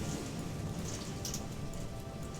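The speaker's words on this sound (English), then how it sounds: "The rain is really loud, though." Heavy rain pours steadily outside, a dense, continuous wash of drops drumming on surfaces, with a few brighter splashes standing out briefly; no one speaks.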